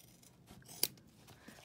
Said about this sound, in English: we are going to take our scissors and we are going to clip our curves